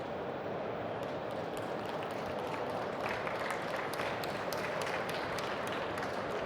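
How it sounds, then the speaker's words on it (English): Steady, dense applause from a conference audience at a Cisco Live presentation, a broad continuous wash of clapping hands that holds at an even level throughout. "I'm glad you're clapping"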